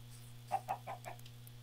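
Several soft clucks from Minecraft chickens sound in a short, uneven series over a steady low hum, faint and slightly distant.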